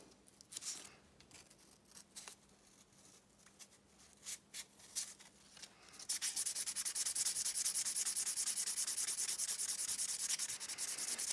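A spark plug being rubbed with 1000 grit abrasive paper: intermittent short scrubbing strokes, then a continuous close, rapid sanding rasp for the last five seconds, with no talking.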